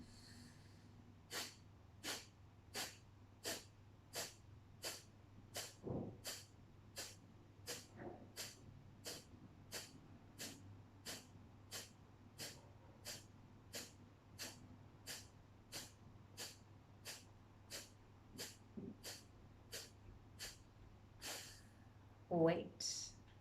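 Rapid, forceful kapalabhati breath-of-fire exhalations during a morning yoga kriya, about thirty sharp nasal puffs in an even quick rhythm, close and distinct, ending with a deeper breath.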